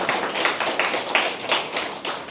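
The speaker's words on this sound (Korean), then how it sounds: "이럴 때 여러분들한테 박수를 쳐야 돼요" Audience applause at a political party leader's lecture in Jeju, a steady wash of many hands clapping throughout, moderately loud and close, with no speech over it.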